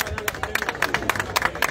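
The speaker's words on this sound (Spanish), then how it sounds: "Vamos, vamos, el aplauso." Scattered clapping and applause from a crowd at a cycling award ceremony for the Vuelta Ciclista del Uruguay, quick uneven claps close by, with a voice speaking over it.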